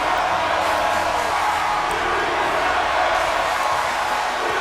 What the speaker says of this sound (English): Listen to this crowd chanting what we all know